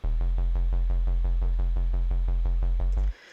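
Drum and bass bassline with the sub bass boosted, a dip in the lower mids and lifted mids and highs, a heavy, loud synth bass pulsing steadily alone before stopping sharply near the end.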